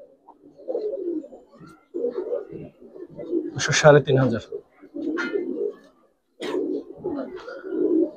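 Pigeons coo softly in the background while someone talks over them, with several voices and a short pause partway through.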